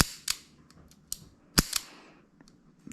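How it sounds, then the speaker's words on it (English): A blued 1976 Smith & Wesson Model 19-3 .357 Magnum revolver with a six-inch barrel is cycled double-action, giving a handful of sharp, close metallic clicks at irregular intervals over a quiet background. "Here's the double action."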